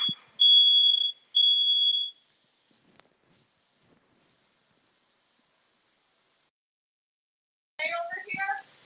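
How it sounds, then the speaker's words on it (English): A house fire alarm set off by cooking smoke sounds two sustained high-pitched beeps close by, followed by silence and then someone talking briefly. "Fire alarm going off in my house."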